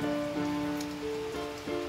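Steady heavy rain pattering on a surface, a constant broadband hiss with a faint tonal hum running underneath throughout.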